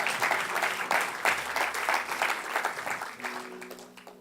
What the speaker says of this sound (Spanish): Levántese, dele un aplauso al Señor.